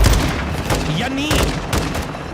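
Rapid bursts of gunfire in Call of Duty MWII, loud repeated shots stacked close together with booming reports, while a voice speaks over the shooting.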